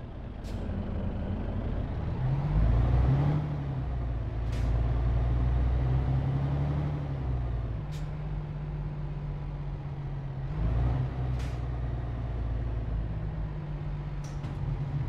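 A heavy truck in Euro Truck Simulator 2 pulls away with a steady, loud diesel drone, its engine note rising and shifting through gears, punctuated by several sharp air-brake hisses.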